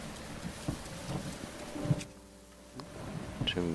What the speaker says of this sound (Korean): 지금 번개가 치고 있어서 뭘 할 수가 없네요.